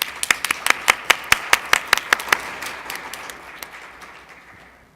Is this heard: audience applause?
yes